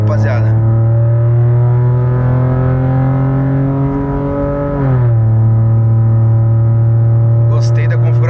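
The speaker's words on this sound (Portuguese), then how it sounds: "Gostei da configuração de escape, velho. Bem barulhento, bem da hora." VW Polo TSI with a Stage 3 tune and loud aftermarket exhaust holds a steady droning idle close by, then the revs dip and settle again, with a few faint clicks near the end.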